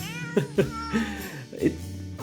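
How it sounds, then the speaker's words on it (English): Cats meowing and yowling in a novelty Christmas song, a handful of warbling, drawn-out mews sung in a rhythmic line over a soft musical backing. "you're greeted with the warbling and mewling and yowling of the cats"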